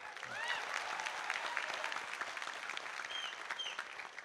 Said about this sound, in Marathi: मला पुरी टाळ्या वाजवताना का दिसणार?